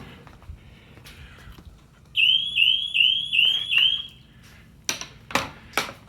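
A dock lifeguard water-safety alarm sounds from about two seconds in, a loud, steady series of repeating rising electronic chirps lasting roughly two seconds, followed by a few sharp knocks.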